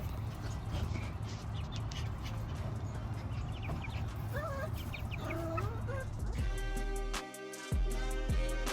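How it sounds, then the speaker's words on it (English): Chickens cluck and squawk in a busy backyard setting with other birds calling; the clucking runs steadily throughout, with a louder, denser burst of sound toward the end. "Here's JoJo and Paris going crazy over the chickens again, but it's Paris this time."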